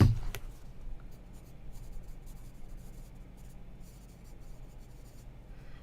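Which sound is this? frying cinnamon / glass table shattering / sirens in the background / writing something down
writing something down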